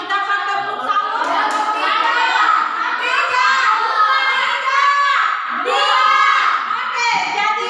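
Schoolchildren in a classroom do a rhythmic clapping chant, claps and young voices chanting together in a patterned beat for several seconds, close and fairly loud.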